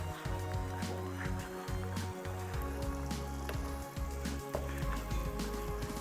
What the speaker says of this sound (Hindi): ज़ीरे को हल्का सौते करना है।